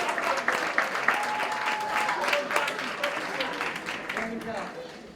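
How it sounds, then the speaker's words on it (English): Applause from an audience at a Martin Luther King Day event rolls on for several seconds, dense and moderately loud, then gradually thins, with voices heard beneath the clapping. "I'm not sure the applause was for the proclamation or because you didn't read the proclamation."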